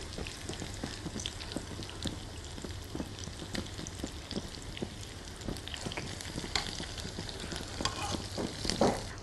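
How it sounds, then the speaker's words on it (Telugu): Onions fry in extra oil in a pan, a dense continuous crackling sizzle with stirring taps, close and steady, with no one talking. "ఆ ఆయిల్లోనే ఉల్లిపాయలను ఫ్రై చేసుకుంటున్నాం."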